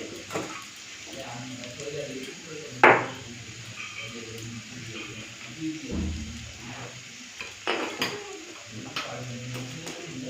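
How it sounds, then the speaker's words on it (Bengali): Onions fry in a pan until browned, with a faint sizzle broken by scattered stirring scrapes and knocks and one sharp clink. Quiet voices and household sounds are in the background. "এই যে দেখুন পেঁয়াজটা লাল করে ভেজে নিয়েছি"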